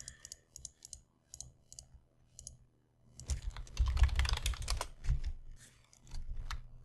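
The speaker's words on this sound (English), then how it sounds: "I need to stop clicking everywhere." Rapid mouse clicks during play of a Minecraft-style video game, first in short sparse bursts, then a dense, louder flurry of clicking and clattering near the microphone, with no talking.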